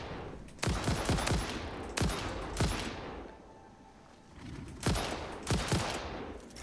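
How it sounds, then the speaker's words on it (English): Rifle fire in the game Satisfactory, loud rapid volleys of shots in several bursts with short pauses between them, close and dominant, no talking. "At least the rifle is nice and accurate."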